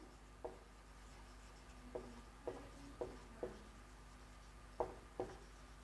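Chalk or marker tapping and scratching on a classroom board during a Class 10 maths lesson, a series of faint, irregular short strokes over quiet room tone.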